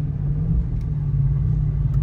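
A stock-exhaust 2023 Dodge Scat Pack, heard from inside while driving, gives a steady low engine rumble at a light, even throttle with no sharp revs.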